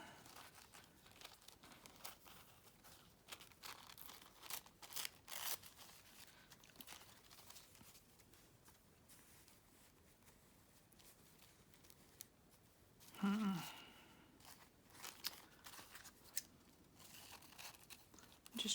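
Paper is cut and handled at a cluttered desk during Bible journaling, with quiet, scattered crinkles, snips and rustles and one slightly louder rustle near the end, all faint and close.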